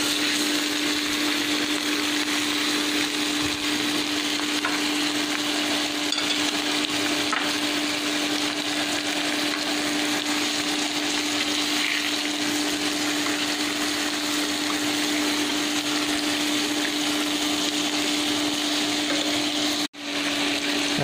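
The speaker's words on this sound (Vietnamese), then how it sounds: "Rồi các bạn rán sơ khoảng 2 phút là được rồi." Pieces of basa fish fry in a pan for a sour soup, giving a steady, dense sizzle that holds at an even, moderately loud level throughout, with no talking.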